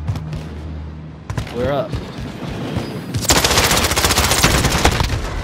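Gunfire in a shooter video game: a few scattered shots under excited talk, then a sustained rapid burst of automatic fire, loud and close, continuing to the end.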